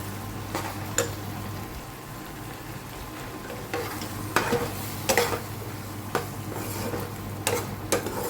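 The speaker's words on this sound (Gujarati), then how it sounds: "ગેસની ફ્લેમ ફૂલ કરી દઈએ અને સરસ હલાવી લઈએ" Moong stirred in a pan over a full gas flame, with irregular spatula knocks and scrapes against the metal over a gentle sizzle and a low steady hum, close by with no talking.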